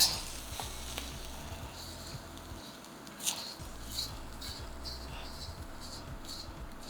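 Eggs being whisked and cooked in a wok, a soft, quiet sizzle with faint scraping and clicking of the whisk, a low hum beneath and a brief lull midway.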